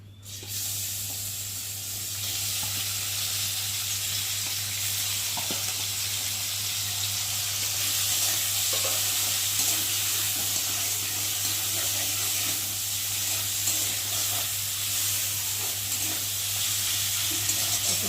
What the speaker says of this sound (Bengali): চিংড়ি মাছগুলো দিয়ে ভালো করে ভেজে নেব